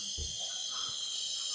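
Air escapes from a bleed valve on a heating radiator in a house with a boiler, a thin, steady high hiss that is faint and continuous. A soft low bump sounds near the start.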